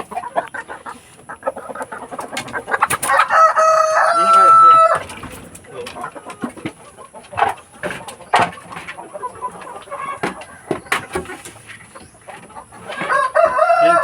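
Chickens being fed rice bran and banana trunk cluck and crow close by, with overlapping loud calls, a long crow early on and scattered clucks throughout.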